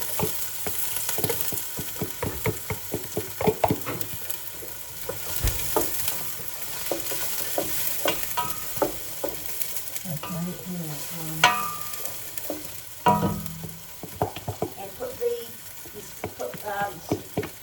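Carrots and garlic going into smoking-hot oil for a creamy carrot soup, with close stirring scrapes and clatter over a steady frying sizzle, plus a few louder bumps and faint voices in the background.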